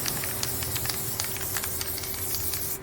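Aerosol spray hissing steadily onto an M1 infantry helmet during refinishing, a continuous close, moderately loud spray with a faint underlying whine and slight fluctuations.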